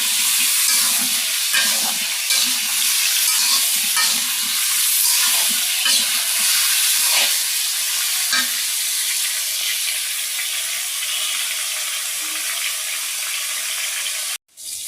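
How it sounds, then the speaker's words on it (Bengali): Pointed gourd (potol) frying in a pan gives a steady, close sizzle with soft stirring scrapes, continuing evenly before cutting off abruptly near the end. "এদিকে পটলটা এই যে ভাজি নিচ্ছি আগে, তারপরে মশলা দিয়ে কষাবো।"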